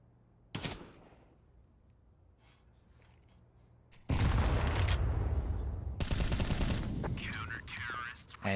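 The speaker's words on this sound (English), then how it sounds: "Makes the peek, finds the headshot on Sadowski." Gunfire in an esports shooter match: a single sharp shot early, then sustained bursts of loud rapid-fire shooting and dense game effects.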